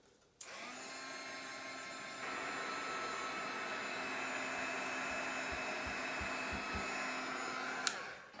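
A drying tool blows air over mixed media paint on a craft tag: a steady, loud whooshing roar that starts abruptly, grows slightly stronger partway through, then cuts off with a click near the end.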